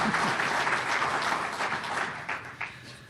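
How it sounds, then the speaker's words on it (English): Sustained audience applause fills a lecture hall, dense and even for the whole stretch, easing slightly toward the end. "I think we ought to give a round of applause to Althea"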